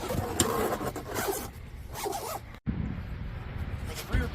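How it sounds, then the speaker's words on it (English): Zipper on the storage bag for a removable roof panel of a 2024 Hummer EV SUV is pulled closed in a few quick, close rasping strokes. "you will zip the bag up"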